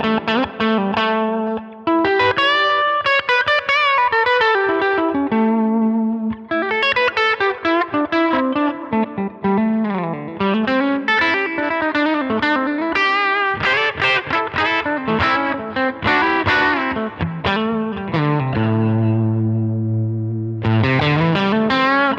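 Electric guitar through an LA Studio Comp compressor with peak reduction at 10 on a Line 6 Helix, playing a flowing melodic line with chorus and effects, smooth and sustained, loud and alone without talk.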